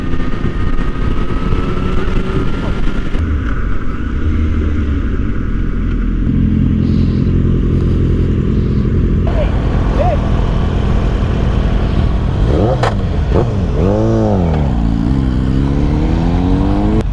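A Kawasaki ZX-10R sportbike ridden over a bumpy road, its engine droning steadily and loud with rising and falling revs, wind rush throughout and a swooping pitch change near the end.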